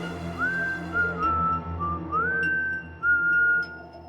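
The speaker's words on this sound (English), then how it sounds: "those same 6 notes, whistled perfectly just outside my window" Six whistled notes heard just outside a window, a clear, close human whistle in a smooth melodic phrase of gliding tones with short pauses between them, loud and alone.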